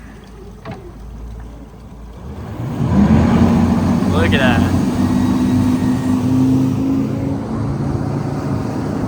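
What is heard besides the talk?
twin Mercury 425 V10 outboards on 37ft Freeman boat accelerating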